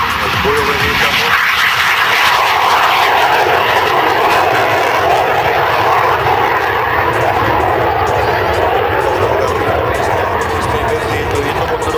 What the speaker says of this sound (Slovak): ALCA a skratka anglických slov Advanced Light Combat Aircraft, čiže ľahké bojové lietadlo.